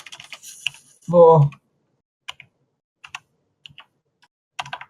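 Scattered clicks of computer keyboard typing during an online tabletop roleplaying game session, sparse taps and short bursts after a brief spoken word.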